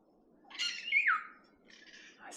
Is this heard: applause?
no